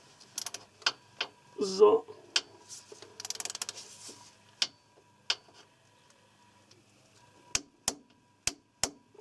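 A 3/8-inch ratchet on a torque wrench clicks as it tightens gearbox bolts on an Opel Tigra B F17 transmission, with sharp separate ticks and a short stretch of quiet speech.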